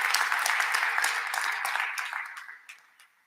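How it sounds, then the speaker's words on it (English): An audience at the City of Flint state of the city address applauds police officers, loud dense clapping that gradually thins and fades out over the final second. "Give our officers a round of applause."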